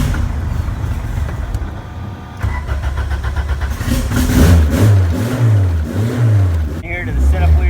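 An 875hp Boyd and Sons Honda Civic hatch street car engine cranks and fires, then settles into a rough idle before being revved repeatedly in loud rising and falling blips, with people talking underneath.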